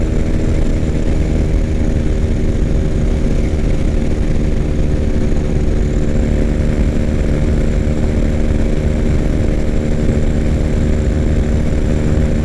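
A 2006 Triumph Bonneville motorcycle riding at speed, a steady loud engine drone with wind rush running continuously and evenly throughout, with no voices.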